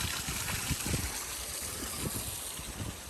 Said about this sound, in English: There is also a similar water running